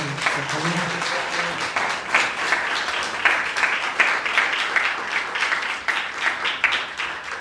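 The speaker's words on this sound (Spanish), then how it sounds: "Primero pedirles un fuertísimo aplauso para ustedes, por favor." Conference audience applauding at the close of a talk about Cuauhtémoc, dense, even clapping that stays loud and steady throughout with a little crowd murmur mixed in.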